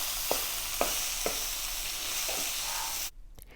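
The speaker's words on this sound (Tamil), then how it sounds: "போட்டு நல்லா வதக்கிடலாம் பச்சை மிளகாயை." Green chili frying with onion in a pan, a steady broadband sizzle with a few soft scrapes of stirring, then the frying cuts off abruptly near the end.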